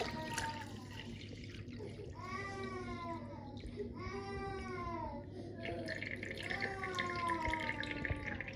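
Cold water is poured into a BRITA Flow XXL fridge filter tank and trickles and drips as it filters down, a steady liquid splashing with bubbling gurgles, close and moderately quiet over a faint background hum.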